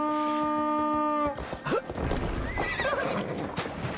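In the video game Assassin's Creed Valhalla, a horse whinnies loudly, then hooves clip-clop and the animal snorts amid rustling movement.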